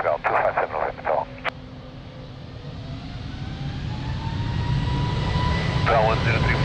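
An airliner takes off from runway 02 at Lisbon Airport, its engine roar swelling steadily from faint to loud after a short burst of radio talk, with more radio chatter near the end.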